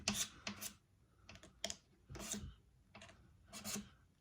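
Frets on a Taylor acoustic guitar are leveled with a file, giving short, quiet rasping strokes in an irregular series of about eight passes, close and alone without speech.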